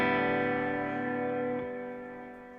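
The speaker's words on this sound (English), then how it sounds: "going in through the guitar, your everyday normal clean sound" A clean electric guitar through an HX Stomp with reverb, a single chord ringing out and slowly fading over a couple of seconds, alone with no talk.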